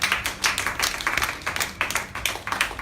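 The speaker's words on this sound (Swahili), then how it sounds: "Pigia Bwana makofi makubwa." A church congregation claps for the Lord in a loud, fast, uneven burst of many hands, the rhythm pulsing and staying dense throughout, with no voices over it.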